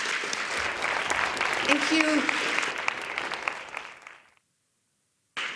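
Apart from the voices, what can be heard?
audience applause at a press conference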